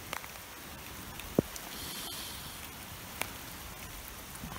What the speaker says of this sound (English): We're getting some hail right now. And ice and slush.